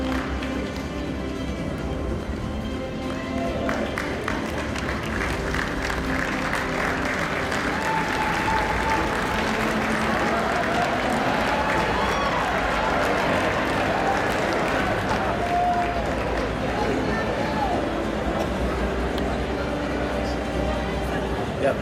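A large convention audience at a Kiwanis International gathering applauds continuously for over twenty seconds, a dense, loud wash of clapping from a big hall crowd with some voices mixed in.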